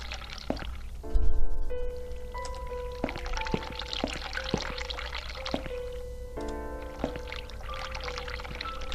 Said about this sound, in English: Run the hot water.